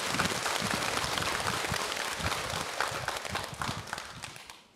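A large crowd applauds at Jogyesa Temple during a Buddhist dharma talk marking the end of the summer retreat. Dense, steady clapping fills the space for several seconds before slowly thinning out.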